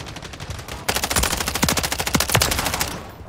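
Sustained bursts of automatic gunfire from a shooter video game, rapid clustered shots starting abruptly and running loud and dense for over two seconds before stopping.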